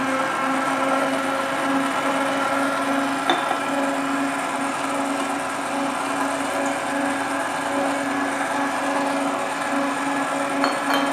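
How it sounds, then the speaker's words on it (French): A dough kneading machine working bread dough with water and salt, giving a steady, even motor hum and churning rumble throughout, with a couple of faint knocks and no talking. "je viens de mettre le bol dans le pétrin. Je vais ajouter le sel. Et je vais pétrir avec l'eau."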